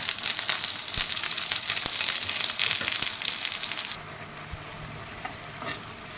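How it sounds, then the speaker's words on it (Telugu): Curry leaves frying crisp in a hot pan for a dry chicken dish give a dense, steady crackling sizzle with a few sharp pops, easing off to a quieter, thinner fry in the last seconds. "కరివేపాకు చక్కగా ఫ్రై అయిపోయింది, క్రిస్పీ అయిపోవాలన్నమాట."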